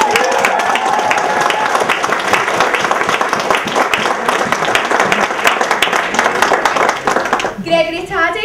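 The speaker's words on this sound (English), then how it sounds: "I want you to give them a big round of applause" An audience at a St Johnstone Football Club educational event gives the club's players a sustained round of clapping, dense and even. A voice briefly speaks as the clapping fades at the end.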